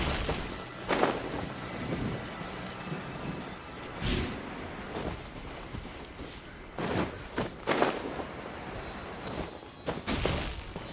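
Rain falling in the Genshin Impact game world, a steady wash of patter with occasional louder bursts and rumbles, fairly loud and continuous with no talk.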